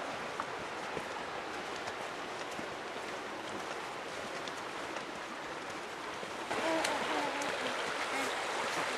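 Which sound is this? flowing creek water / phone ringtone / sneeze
flowing creek water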